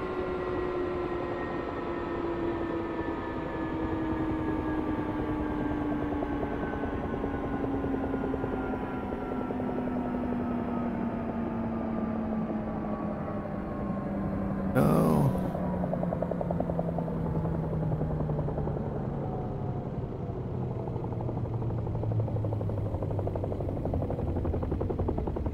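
In a DCS flight simulator, a UH-1H Huey helicopter's turbine and rotor wind down in a steady falling whine with a dropping drone, interrupted by a brief loud click midway. No one speaks.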